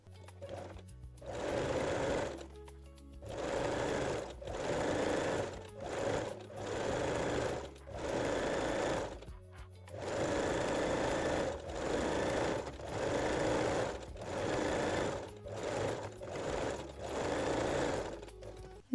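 A sewing machine runs a zigzag stitch over fold-over elastic on a garter belt waistline, whirring loudly and close in about a dozen steady bursts separated by brief pauses.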